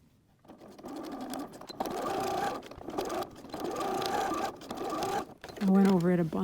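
A sewing machine stitches elastic onto a quilted fabric notebook cover in several close, steady runs with brief pauses between them, and a voice speaks at the end.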